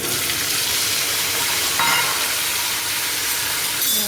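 Spiny gourd (kantola) tipped into hot oil seasoned with asafoetida, giving a loud, steady broadband sizzle that flares briefly mid-way as the pieces hit the pan and settle into continuous frying.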